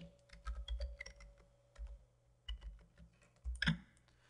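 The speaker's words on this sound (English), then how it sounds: "select the text icon and type in a name" Name typed on a computer keyboard during a design software demo, a fairly quiet run of rapid key clicks in short bursts with brief pauses, no talking.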